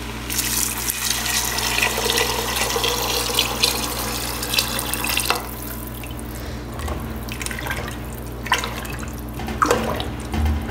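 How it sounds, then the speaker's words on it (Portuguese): Tap water pouring steadily into a pot of sautéed, seasoned beans on a home stove, with a continuous splashing, running flow and a few small drips and clinks near the end. "Agora eu vou adicionar a água, tá?"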